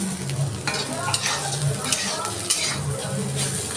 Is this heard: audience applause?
no